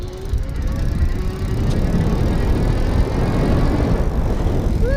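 Pedego Platinum Interceptor electric cruiser bicycle riding on throttle, a loud rushing blend of wind and tyre noise with a faint rising motor whine, steady for several seconds.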